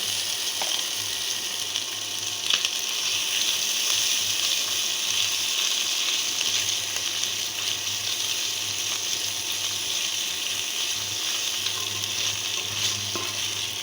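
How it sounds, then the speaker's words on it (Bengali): Ginger paste fries in a pan for a dried fish curry, producing a steady, even sizzle that holds at a constant level for the whole stretch, with a faint low hum beneath and no talking. "এখন দিয়ে দিচ্ছি আদা বাটা"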